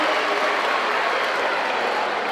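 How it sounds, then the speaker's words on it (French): Steady, dense audience applause at a national spelling bee for the children of Mali, a continuous wash of many hands clapping together with no voices over it. "Je voudrais vraiment qu'on applaudisse tous les enfants du Mali"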